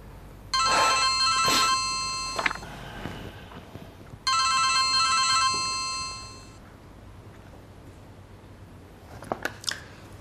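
A phone rings with a late-night call: two bursts of a bright electronic ringtone, separated by a pause, with soft handling clicks and small rustles around them in a quiet room.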